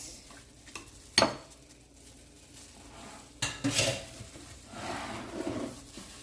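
A spoon stirs turkey seasoning in a bowl for a Jamaican-style Thanksgiving turkey, making quiet scraping and rubbing sounds broken by two sharp clinks of metal against the bowl.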